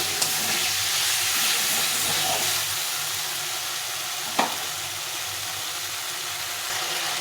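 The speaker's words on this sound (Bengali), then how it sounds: "দিয়ে একটু ভালো করে কষিয়ে নেব অল্প একটু নিয়ে ভালো করে মশলাটা কষে নিতে হবে" Spice paste, with potatoes, frying in oil and stirred in a pan: a loud, continuous close sizzle with scraping from the stirring and one sharp clack of the utensil midway, no voices.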